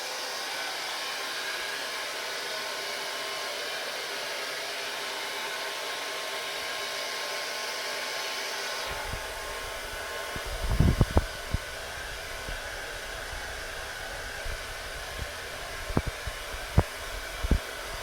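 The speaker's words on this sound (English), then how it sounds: "Hair dryer." A hair dryer blows continuously with a steady, loud whooshing roar, its pitch shifting partway through, with a few soft knocks and bumps near the end.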